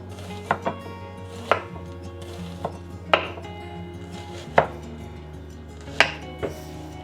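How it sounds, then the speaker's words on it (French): A knife chops vegetables very finely on a board while preparing pho soup, giving about nine sharp, distinct cuts at an uneven rhythm over a steady low hum, with no voices. "Je coupe vraiment très finement."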